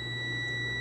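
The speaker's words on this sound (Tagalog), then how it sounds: "Continuity ho ng buzzer ho yan ha." An electrical continuity tester buzzes steadily while checking a stop-start motor control circuit. The tone is a constant, faint, high-pitched whine over a low electrical hum.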